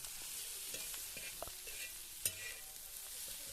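Wild flower vegetable frying in a pan, a faint, steady sizzle with soft scraping as it is stirred and one brief clink, close but quiet.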